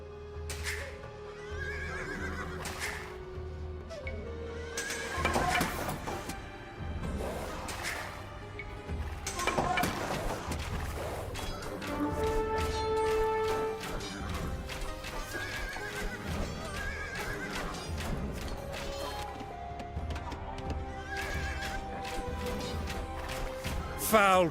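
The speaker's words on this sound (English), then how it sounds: "Foul creatures, those Scythian horses, vicious as Cerberus and just as ugly." Scythian horses in a Civilization game neigh and whinny repeatedly over clip-clopping hooves, several loud calls spaced across the stretch with occasional crashes and thumps in between, no talk.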